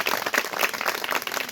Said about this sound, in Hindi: इसलिए सर के लिए जोरदार तालियां।